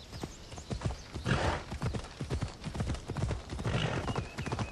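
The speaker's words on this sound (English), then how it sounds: "Might be a bit better if we have a horse to hunt with." Horse hooves clip-clop in a steady galloping rhythm in Assassin's Creed Odyssey, close and fairly loud, with an occasional whinny and other game sounds around them.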